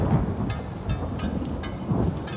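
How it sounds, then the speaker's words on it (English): A thunderstorm in the video game Elder Scrolls Online: steady heavy rain hiss with low rumbles of thunder and a few brighter splashy bursts, continuous and without talk. "That storm really is coming down."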